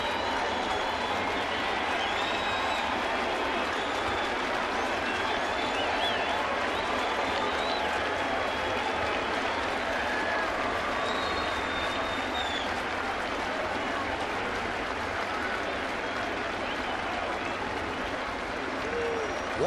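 A baseball stadium crowd cheers and applauds steadily as the Reds face Sabathia with two outs and two strikes, a dense continuous roar that holds loud throughout.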